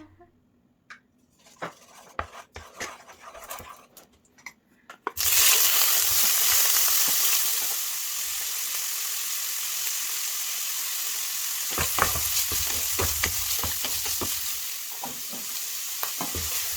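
Scattered clinks and taps give way to a loud, steady sizzle as pad thai noodles hit a hot pan, with scraping and stirring clatter over the frying.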